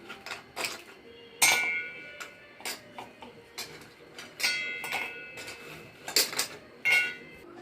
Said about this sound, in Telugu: మిక్సీ జార్లో వేసుకోవాలి.